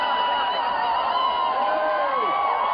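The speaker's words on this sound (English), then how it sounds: "I think one of the worst parts here is hearing everyone in the crowd cheering Johnny on." Crowd cheering and whooping, with several voices shouting and yelling together over a steady roar of many people, loud and sustained.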